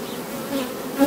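Honeybees hum on a brood frame pulled from a hive, a close, continuous buzz from many insects with small swells in pitch and loudness.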